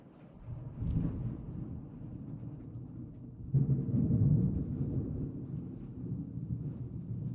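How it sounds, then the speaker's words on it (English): Thunder rumbling outdoors during a rainstorm, a deep rolling boom that swells at the start and a louder crack-and-roll midway, with steady rain hiss underneath and no talking. "We got some rain going on right now, some thunder and lightning going on outside."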